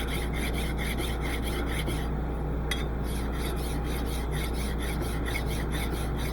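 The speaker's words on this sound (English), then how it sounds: "a few strokes of your file will get it back to where it was" A hand file rasps against metal in steady back-and-forth strokes, loud and close, about a dozen even strokes with a brief pause near the middle, set against a constant low machine hum in a machining shop.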